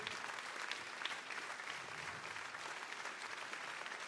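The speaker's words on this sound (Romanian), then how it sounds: "Aplauze pentru artiștii de pe scenă" Sustained, dense applause from a concert audience at a gala in Timișoara, a continuous wash of clapping filling the hall at even loudness.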